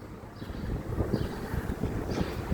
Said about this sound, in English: good old nice windy day.